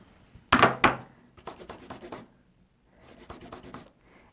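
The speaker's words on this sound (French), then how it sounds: "Je vais nettoyer mes tampons." Rubber stamps being cleaned, with two sharp rubbing swipes followed by bursts of quick scrubbing strokes separated by a short pause, close and fairly loud.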